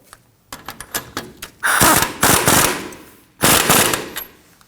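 Castle nut being snugged with an impact wrench on a 2009-2014 Ford F-150 front shock and spring assembly: short bursts of rattling hammering, two longer loud runs separated by a pause.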